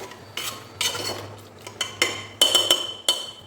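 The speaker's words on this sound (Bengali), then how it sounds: "মাংসটা একটু ভালোভাবে কষিয়ে নেব" Meat being stir-fried in a pan for kosha, with a metal spatula scraping and clinking against the pan in a series of about eight sharp strokes over a low hum, and no voices.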